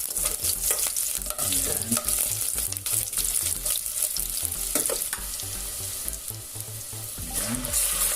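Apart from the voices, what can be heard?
onion frying and being stirred in a pan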